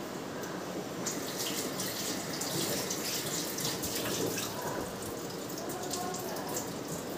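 Tap water runs steadily into a kitchen sink while green chillies and coriander are washed, a soft, constant splashing hiss with a few faint clinks.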